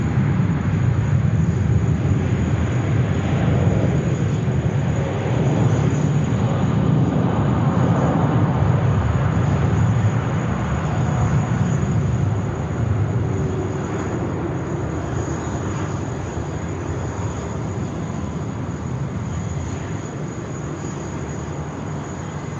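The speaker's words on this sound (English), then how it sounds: "And now we've got All Nippon Airways going out." An All Nippon Airways jet airliner departs Sydney Airport, its broad engine roar loud and steady before easing slightly as it climbs away, with no voices.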